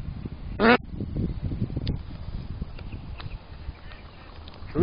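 A mallard hen answers a duck call in spring, giving one short quack over a steady background of rustling and low rumble outdoors, with no talking.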